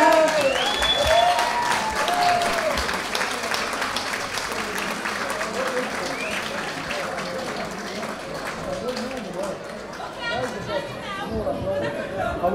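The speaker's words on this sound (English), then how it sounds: "big round of applause for Rachel Sindhu" Applause and cheering from guests at a wedding celebration in a Bradford restaurant, sustained clapping mixed with crowd chatter and a few whistles, with voices talking throughout.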